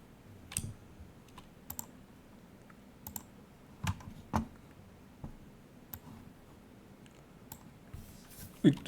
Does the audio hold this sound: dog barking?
no